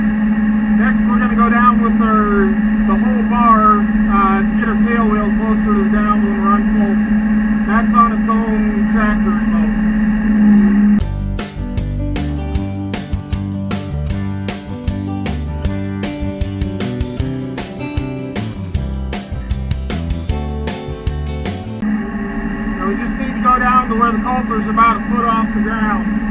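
Zoske Legend Series front fold bar lowering, a steady hydraulic engine drone with a clattering, rhythmic mechanical run in the middle stretch, under ongoing talk.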